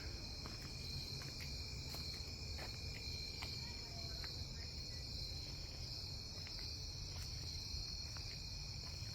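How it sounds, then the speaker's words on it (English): A cricket chirps continuously without pausing, faint and steady against a quiet outdoor background, with a few soft clicks and rustles. "Cricket, the pauses every few seconds, but this one continuous."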